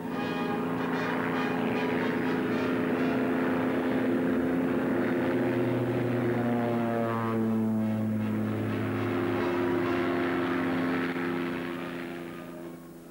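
Propeller aircraft flying at a 1967 air display at Baragwanath, South Africa, a loud continuous droning engine hum with shifting pitch as planes pass, sustained throughout and fading slightly at the end.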